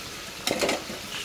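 Fish frying in oil gives a short, close burst of sizzle and spatter that swells and fades within a second over a quiet kitchen background.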